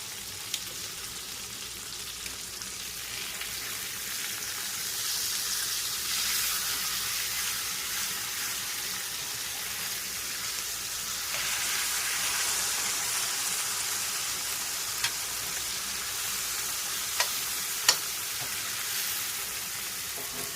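Pieces of Swiss steak with onion sizzle steadily in a frying pan, a continuous broad hiss with a few faint clicks as the pieces are flipped.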